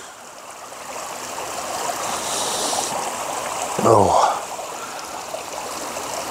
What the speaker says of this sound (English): so all you can hear is the river